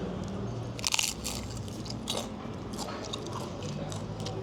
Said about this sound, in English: The crunchy part, the best part of the brick.